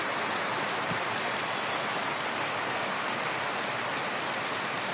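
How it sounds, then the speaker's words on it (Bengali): Heavy rain pours down over Dhaka in a steady, dense hiss of drops on surfaces, continuous and fairly close, with no voices over it. "প্রচুর পরিমাণ বৃষ্টি হচ্ছে।"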